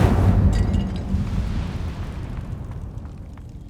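An Incendio fire spell cast in the Hogwarts Legacy video game, a loud roaring burst of flame at the start that rumbles on and slowly fades, heard alone without talk.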